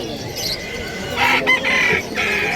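Chickens crowing and clucking in short bursts over a busy background hum, with faint voices nearby, at a pet market in Bulacan, Philippines.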